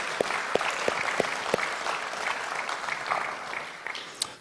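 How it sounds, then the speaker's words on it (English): Applause at a school football banquet, a room of hands clapping for the school administration, steady and fairly close with a few sharp individual claps standing out at the start. "If you would give those guys a round of applause"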